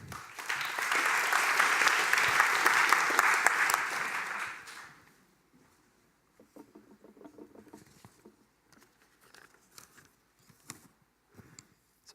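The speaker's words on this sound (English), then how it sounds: "Please give a warm welcome applause for Graham Sturt." Audience applause welcoming a speaker at a graphic design event, a dense burst of clapping for about five seconds that cuts off abruptly, followed by faint scattered rustles and small movements.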